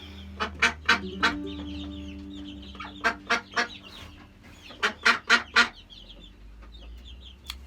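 A broody hen clucks in a series of short, loud bursts, pausing between clusters, with low steady background hum.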